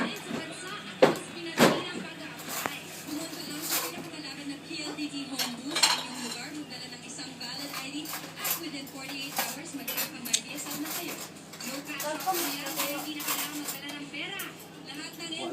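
A knife and cutlery clink against a plate while cutting a hard, frozen ice cream cake at an elderly man's birthday, with several sharp knocks early on and scraping throughout as family members chatter nearby.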